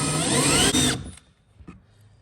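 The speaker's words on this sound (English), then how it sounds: "Just make sure you don't drill too far." A power drill whirs loudly at close range for about a second while drilling into a car's rear bumper assembly, then winds down and stops, followed by a faint clunk.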